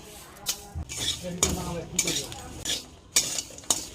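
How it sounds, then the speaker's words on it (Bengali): A metal spoon clinks and scrapes against a pan in irregular strokes while black cumin and dried chillies fry with a faint, low sizzle underneath. "কালো জিরে আর শুকনো লঙ্কাটাকে ভেজে নেব।"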